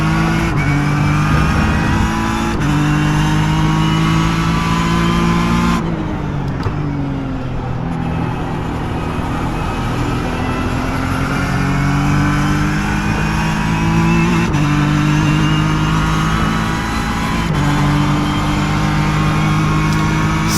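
A race car in the iRacing simulator howls around Watkins Glen, its engine a loud, unbroken drone that holds steady, then dips and climbs again through gear changes and throttle lifts.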